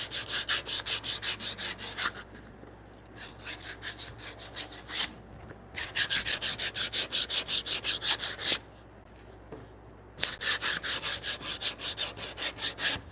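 Coarse 60-grit sandpaper rubs across wood up close in bursts of fast, rhythmic back-and-forth strokes, with short pauses between sets.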